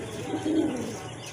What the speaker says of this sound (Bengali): আরেক জোড়া কবুতর এখানে খুবই সুন্দর এটা হচ্ছে আপনার জাগ গলা কবুতর